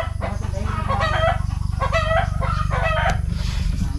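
A rooster crows loudly and close on a Philippine farm during squash and string bean planting, one drawn-out cock-a-doodle-doo with clucking fowl around it and a low engine-like hum underneath.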